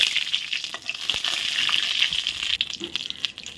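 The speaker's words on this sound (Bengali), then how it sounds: "এই দেখো জিরা ফোড়ন দিয়ে দিলাম আর দুটো তেজপাতাও দিয়ে দিলাম" Cumin seeds, dried bay leaves and dried red chillies sizzle in hot oil in a wok, a close crackling hiss scattered with small pops and spits that holds throughout.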